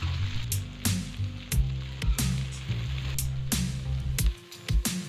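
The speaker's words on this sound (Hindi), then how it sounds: "अकेली भिंडी को ही फ्राई करना है" Okra (bhindi) fries alone in a pan with no onions for a crispy Delhi-style bhindi fry, giving a steady close sizzle over a low hum, broken by repeated sharp clatters of stirring.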